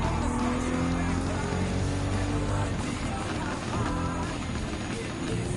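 A BMW M2 Competition racing in Gran Turismo 7, its engine droning loud and steady at close range with tire noise and other cars mixed in, no break in the sound.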